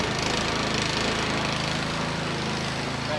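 A Craftsman 24-inch snow blower engine runs steadily at about half throttle while warming up in the cold, a loud, even drone close by.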